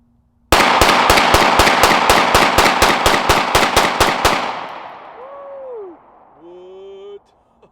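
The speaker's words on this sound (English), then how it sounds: "Have you ever mag dump a STAR 30M?" A STAR Model 30M pistol emptying its magazine of 9mm NATO 124-grain full metal jacket rounds, about fifteen loud, evenly spaced shots in rapid succession, followed by a fading echo and brief voices.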